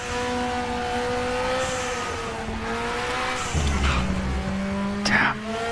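A race car in a VR racing game, its engine droning steadily with shifting pitch and a screech of skidding tyres toward the end, while people talk over it.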